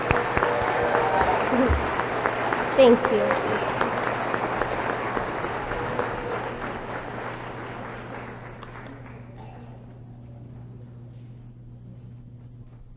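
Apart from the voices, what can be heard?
audience applause at nurse pinning ceremony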